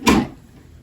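A makeup drawer for blush and bronzer slides open or shut in a single quick knock with a soft scrape. It is close and fairly loud, then fades into quiet room tone.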